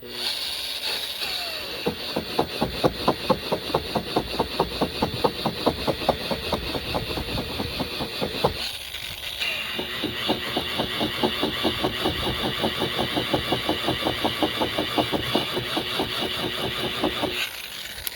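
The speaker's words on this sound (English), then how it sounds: "I get my buffer spinning and then watch what I do." Rotary buffer spinning while polishing oxidized gelcoat on a boat hull, a steady whirring hum with rapid rhythmic pulses, briefly pausing midway before running on close by.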